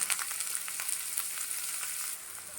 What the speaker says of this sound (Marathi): तर कांदा चांगला आपण भाजून घेऊया